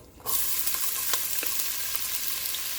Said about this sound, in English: When it's hot, then you put in your chopped onion.